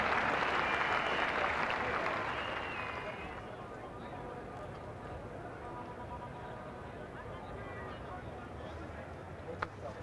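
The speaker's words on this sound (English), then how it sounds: "So applause for the 50 going up" Crowd at a 1984 England v West Indies Test match at The Oval applauding a batsman's fifty, broad distant clapping for about three seconds that fades into murmuring ground noise.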